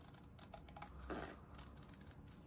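Scissors snip through a paper cup in a few short, crisp cuts with papery crinkling between them, close and fairly quiet, with no one talking.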